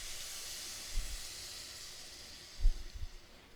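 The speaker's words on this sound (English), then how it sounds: "Now we have the cream. We're going to go ahead and pour that in there. You're going to also hear it sizzle even more." Cream poured into a hot pan of mushrooms, a steady soft sizzling hiss with a couple of brief low thumps and swells as it hits the pan.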